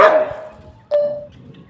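A dog in a standoff with an agitated cobra that had hidden in a bathroom gives a sharp bark, then a second short bark about a second later. Both are close and clear, with no talk.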